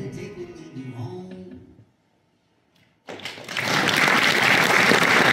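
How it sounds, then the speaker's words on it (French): Audience applause at a motorcycle adventure festival award presentation, rising suddenly after a brief silence into a dense, loud, sustained wash of clapping; muffled sounds precede it. "Applaudissez, mesdames, mesdemoiselles, messieurs, Charles Potier"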